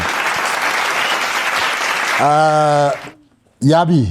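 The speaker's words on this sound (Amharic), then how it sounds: "እስቲ አጨብጭቡላቸው" Studio audience applauds doctors who have joined a talk show, steady dense clapping for about three seconds, then a voice speaks briefly.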